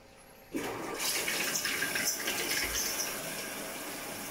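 An Electrolux washing machine starts its cycle and fills with water, a steady rushing flow of water surging in abruptly after a brief quiet moment and continuing evenly throughout.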